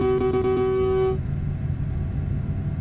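A truck horn blasts in Euro Truck Simulator 2 on the Grandutopia map while hauling a heavy load: a loud pulsing tone for about a second over steady engine rumble, which continues after the horn stops.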